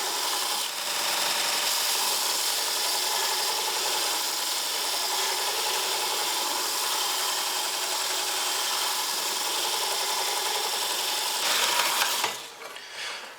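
A Pro-Edge belt sharpener runs steadily with a 120-grit zirconium belt while a woodturning gouge is passed against it, a continuous loud abrasive grinding hiss that cuts out near the end.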